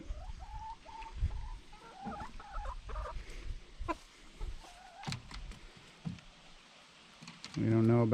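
Backyard homestead chickens clucking and fussing as they try carrot greens tossed to them, soft intermittent calls close by, with a person talking over them and a loud burst of noise near the end.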